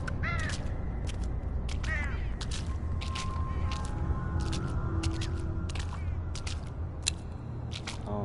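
Crows caw repeatedly in a dark video game, the harsh calls spaced through a steady, loud ambient noise bed, with no talk over them.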